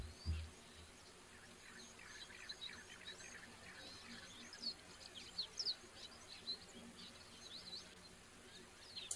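Waxbills and finches at a waterhole, giving faint, scattered high chirps and twitters over a soft outdoor background.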